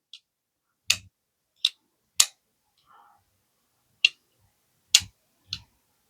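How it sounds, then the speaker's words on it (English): Sharp metallic clicks, about seven, spaced irregularly and close up, a Vosteed Raccoon folding knife blade with a top liner lock snapping open and shut, with a faint rustle between. "you can also use the top liner lock to deploy the knife"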